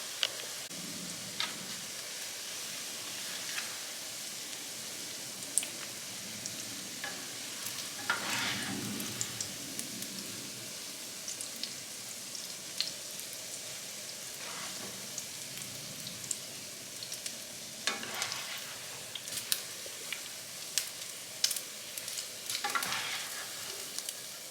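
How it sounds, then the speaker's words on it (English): Eggs frying in hot oil for a Haitian street-food sandwich, a steady soft sizzle with scattered pops and crackles running throughout, close and fairly quiet, no voices. "And then fry the remaining."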